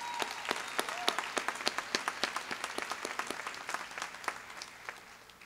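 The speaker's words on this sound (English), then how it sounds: "Please join me in applauding." Commencement audience applauding the class of 2014, a dense burst of sharp claps that starts strong and fades gradually over about five seconds, with no voices over it.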